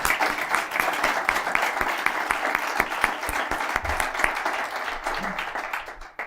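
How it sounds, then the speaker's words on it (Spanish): An audience at a press and media event in Spain claps in a round of applause, individual claps standing out sharply within the steady wash before it fades. "Un aplauso para Mila."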